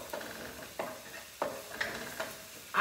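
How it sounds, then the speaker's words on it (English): Onions brown in a pot, giving a steady close sizzle broken by periodic scraping stirs about every half second to second. "So my onions are browning here very"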